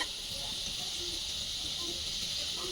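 Gulab jamun frying in hot oil until golden brown, a steady soft hiss of sizzling that runs evenly throughout at low level, with faint small bubbling pops.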